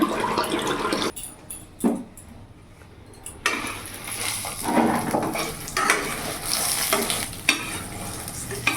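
Oil sizzles and crackles as eggplant fries in a pan, with stirring scrapes and a brief quieter pause partway through.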